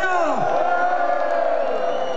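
A large outdoor crowd cheers and roars at Place Saint-Lambert in Liège for the Standard de Liège football team, a loud sustained whooping swell with a rising voice at the start.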